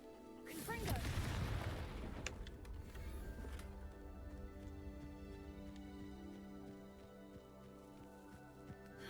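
A Confringo explosive spell cast in Hogwarts Legacy, heard as a single fairly quiet blast with a deep rumbling thud that decays into a lingering tonal hum with faint mechanical ticks.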